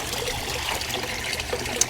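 Water trickles and pours steadily during a water change on an outdoor goldfish tank, a continuous close splashing flow with small bubbling spikes and no speech.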